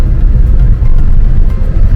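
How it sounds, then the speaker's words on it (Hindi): Busy road traffic in Rameshwaram, a steady low rumble of passing cars and vehicles close by, continuous and fairly loud with no clear speech over it. "चलो यार, बहुत ट्रैफिक है, बहुत ट्रैफिक यहाँ पे।"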